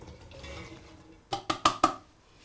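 Chopped Japanese knotweed stalks are dropped into a cooking pot, landing in four quick, sharp clattering bumps close by after a soft rustling handling sound.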